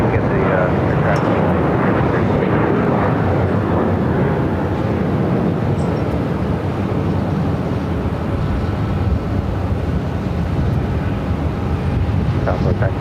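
A Southwest airliner takes off from runway 7 left at Phoenix airport, a loud continuous rumbling jet roar filling the whole stretch, heard alongside radio and voice chatter.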